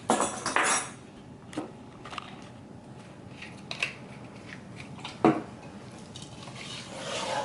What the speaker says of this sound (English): And then we're going to stir it all together